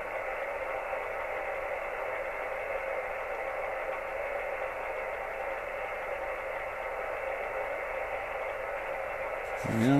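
Steady hiss of radio static from a receiver near 7093 kHz fed by a magnetic loop antenna, an even band of noise with little change for ten seconds, then a sudden shift and a brief whistle at the very end.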